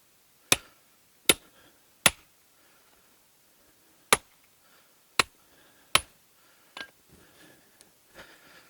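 Knife cuts while quartering a moose in the field: a series of sharp, separate cutting strokes, about seven of them at irregular intervals, close and fairly crisp against a quiet background.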